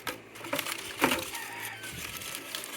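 A turkey calls close by, with a sharp gobble standing out amid low clucking and farmyard background noise.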